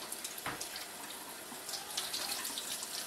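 Tap water running steadily through brewing tubing while rinsing homebrew equipment clean, a continuous close splashing hiss with no talk over it.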